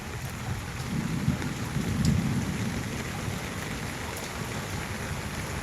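Heavy rain pours down steadily during flooding, a dense, even hiss with a low rumble that thickens briefly near the start, fairly quiet and with no voices.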